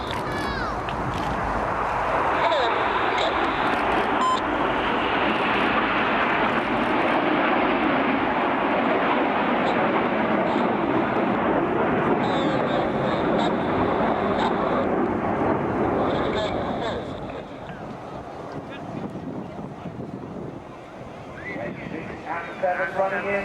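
Red Arrows display jets sweep past at the Sunderland Air Show 2018, a loud sustained roar of jet engines holding for about sixteen seconds before easing, with wind buffeting the microphone and commentary audible over the noise.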